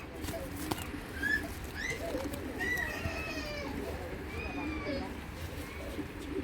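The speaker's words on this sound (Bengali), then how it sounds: "কবুতরটা হেভি শক্তিশালী একটা নর।" A strong black pied male racing pigeon coos steadily at mid distance while someone talks over it, with sharper bird chirps and calls cutting through the background.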